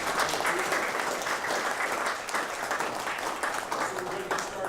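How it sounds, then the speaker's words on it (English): Audience applause at a morning recognition ceremony for university certificate recipients, a sustained dense clapping from a large crowd filling the room at steady loudness throughout, with no voices rising above it. "a round of applause for doing good work."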